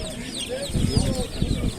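Roosters at a crowded chicken market in Sakarya give short, close clucks and throaty calls among background voices and general market bustle.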